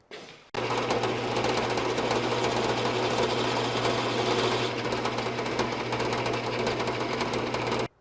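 A diamond dresser dresses a spinning grinding wheel in a workshop, a loud, continuous gritty rasp over a steady low hum that starts abruptly and runs unbroken for several seconds before cutting off.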